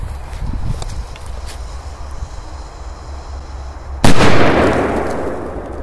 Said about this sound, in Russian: сейчас мы заложим динамит и будет